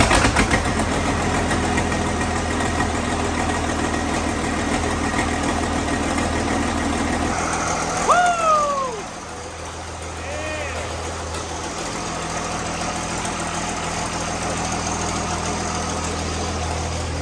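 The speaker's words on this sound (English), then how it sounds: "crank her over, and let's hope this time it really starts" A triple-turbo Cummins 12-valve diesel runs close and loud with a steady rumbling idle, its tone shifting and dropping slightly partway through, with a brief voice-like sound at the change.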